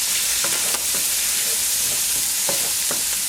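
Canned vegetables, drained of their liquid, sizzle steadily in a hot pan for shrimp fried rice, a dense continuous hiss with faint scraping stirs throughout and no voices.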